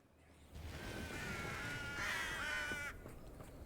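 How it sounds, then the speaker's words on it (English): Crows caw loudly in the West Hogwarts Valley area of the video game Hogwarts Legacy, a sustained, overlapping run of harsh calls lasting a few seconds. "Murder of crows."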